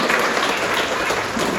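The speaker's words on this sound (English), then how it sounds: "A big round for her. Applause for her." Dense, steady applause from an audience at a literary festival in Hyderabad, a continuous wash of many hands clapping at even loudness throughout, with no voices rising above it.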